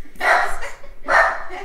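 A caged dog gives two sharp, loud barks about a second apart, close by, with a brief whimpering yip between them.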